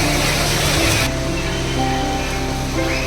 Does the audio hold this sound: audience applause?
no